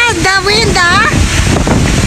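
Strong outdoor wind buffeting the microphone on a rest day in Singapore, a loud constant roar and rumble with a voice talking over it.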